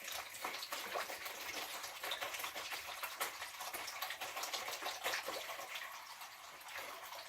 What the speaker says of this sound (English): you guys see me washing plates here